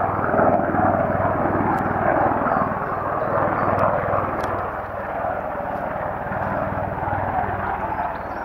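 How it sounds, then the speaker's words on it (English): A search and rescue helicopter drones steadily overhead near Ravenscar, its rotor chop loud and continuous across the whole stretch, with no voices. "Is a search and rescue helicopter flying over that landscape any more interesting?"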